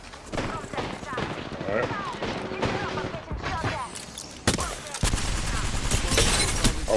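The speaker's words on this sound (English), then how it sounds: "I hear shooting top right somewhere, like far." Distant gunfire in an online shooter game, scattered shots and bursts sounding far off beneath a player's voice and other game noise, growing denser toward the end.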